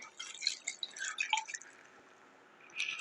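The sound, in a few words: water being added to cupcake mix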